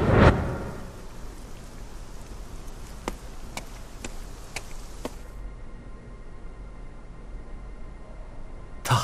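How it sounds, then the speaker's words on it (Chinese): Steady rain falls in a dense, even hiss, punctuated by a few sharp drip-like ticks, then the sound abruptly thins and cuts off before a brief burst at the end; no one speaks. "奇怪的雨，哪里来的？ 怎么下雨了？"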